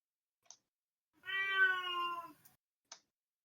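A cat lets out a single drawn-out, tonal meow lasting about a second, close and clear, with faint clicks before and after in an otherwise quiet room.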